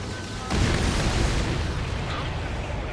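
A loud in-game explosion as an enemy base is destroyed in Ace Combat 7, a sudden heavy boom at the start that rolls into a sustained rumbling roar through to the end.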